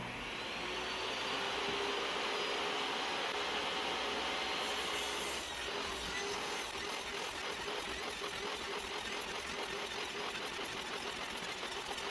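A power saw cuts 18-inch-wide wooden sections into 1.5-inch strips, a loud continuous whine and buzz from close by with the cutting tone shifting partway through, and no talk.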